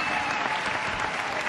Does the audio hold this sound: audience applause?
yes